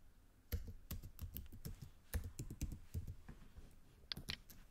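Close, quiet typing on a computer keyboard while entering a password, an irregular burst of crisp key clicks with short pauses between runs.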